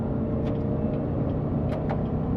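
A Chevrolet Corvette C7 with a 6.2L V8 and an MBRP 3-inch quad axle-back exhaust pulls away easily through the gears, giving a steady, loud, deep engine drone throughout with no talking.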